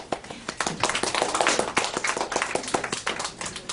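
An audience claps throughout at a lecture on Guatemalan family values and international adoption, a dense, steady applause of many hands filling the room with rapid overlapping slaps.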